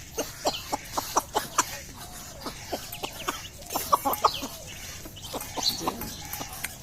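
A mother hen raising hatched ducklings from duck eggs gives a steady run of short, close clucks at an even pace, with faint high peeping between them and no talking.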